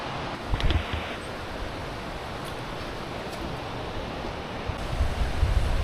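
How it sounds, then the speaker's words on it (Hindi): Rushing water near Kargah Buddha outside Gilgit, a steady broadband roar filling the whole clip at moderate loudness, with a few brief knocks and handling bumps on top and no talk. "हर तरफ पानी का शोर ही सुनाई दे रहा है।"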